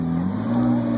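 A McLaren 650S sports car with its engine running, a loud steady hum close by and no clear rise or fall in pitch.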